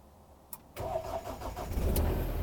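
A Mahindra Roxor engine cold starting: a brief cranking burst, then the engine catches instantly and settles into a rough, steady idle, close and moderately loud.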